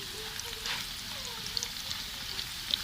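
Food sizzles quietly in a pan while browning for a sohanjna root curry, with a spoon stirring and scraping lightly in soft, irregular taps over the constant frying hiss.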